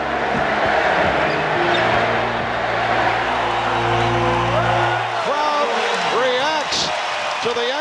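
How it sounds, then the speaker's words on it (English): Arena crowd noise from a basketball game honouring Larry Bird, a dense roar of cheering under continuous commentary, with the crowd swelling then thinning as voices talk over it near the end. "The crowd start cheering, Larry, Larry, Larry."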